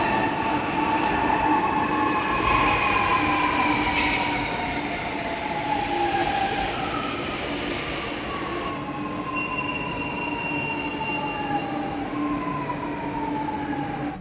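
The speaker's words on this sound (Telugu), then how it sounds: "కోయంబేడులో మెట్రో ఎక్కేసి చెన్నై సెంట్రల్లో మెట్రో దిగాము." A Chennai metro train runs between Koyambedu and Chennai Central, a loud, steady rumble of wheels on rails with long, high squeals sliding up and down across the ride.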